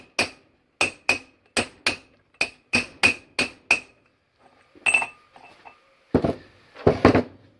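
Sharp metallic hammer blows drive a rear wheel bearing into the hub of a Chevrolet Matiz, about ten evenly spaced strikes up close, followed by a pause and a few heavier, duller knocks once it seats.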